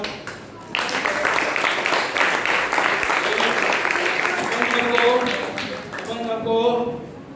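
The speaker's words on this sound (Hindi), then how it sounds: "ताली बजाओ।" Audience applause at a spiritual discourse, dense clapping starting abruptly and continuing steadily for several seconds before a voice speaks over its fading end.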